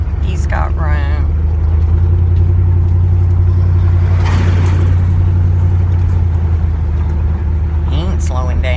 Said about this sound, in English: I got a car coming at me.